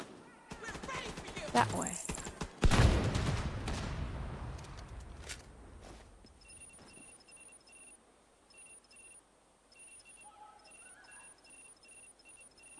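Gunfire in The Division 2 video game: a cluster of sharp shots and a louder crack early on, fading into a quiet, sparse background, with a brief spoken voice.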